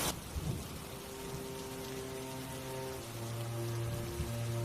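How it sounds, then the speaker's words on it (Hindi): Heavy torrential rain pours down in a cartoon scene, a dense steady roar of downpour with a low rumble underneath, continuous and loud throughout with no voices. "तेज मूसलाधार बारिश होने लगती है"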